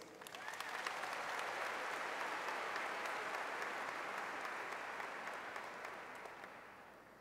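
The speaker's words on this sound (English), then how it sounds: "Please give me a big round of applause for Cassie Warner," A large audience of new students at a university welcome event applauds a campus director, dense clapping that swells quickly, holds steady, then gradually tapers.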